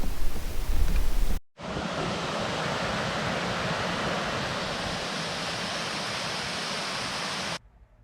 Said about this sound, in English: If the creek has enough water volume in it, it will make a significant amount of noise